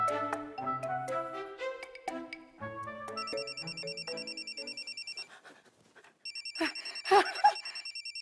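An outgoing phone call rings through the handset. After some tinkling melodic tones, two long, even bursts of ringback tone sound, separated by a short quiet gap.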